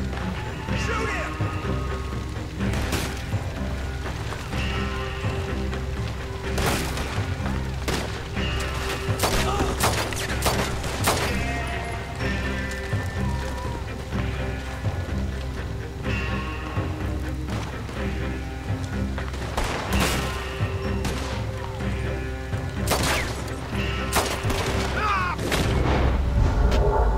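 Rapid gunfire in a Red Dead Redemption 2 shootout, with repeated sharp shots and volleys cracking out at irregular intervals over a steady background, and voices talking through the battle.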